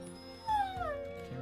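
A dog in the video game Battle Brothers lets out a single drawn-out, falling whimper or yelp over steady game music and sound effects.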